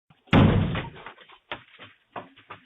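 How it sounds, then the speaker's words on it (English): A house door is kicked in a door kick prank, one loud heavy slam followed by rattling thuds and a few further knocks as it settles, nearby and otherwise quiet. "A kid just runs up to this house and kicks the door."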